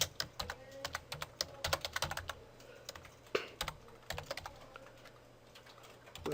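Keys clacking on a computer keyboard while someone types out a formula, a quiet, irregular patter of sharp close clicks in short bursts and pauses, with a steady low hum underneath and no talking.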